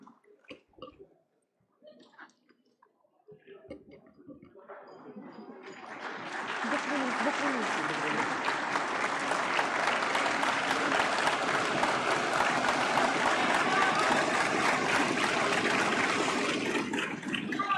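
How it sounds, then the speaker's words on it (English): An audience in a hall applauds an award winner at a science awards ceremony: after some brief speech, clapping swells into a loud, sustained ovation from many people that holds strong to the end. "A big round of applause for him,"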